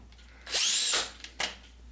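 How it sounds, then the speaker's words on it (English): A power drill spins up and bores through material for about half a second with a loud whine, then gives a shorter second burst, the bursts separated by quiet. "now we can drill these things out the rest of the way"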